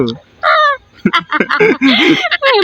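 Mitu, a pet parrot, lets out a loud, harsh crow-like caw close by, followed by people talking and more squawky calls mixed with the voices.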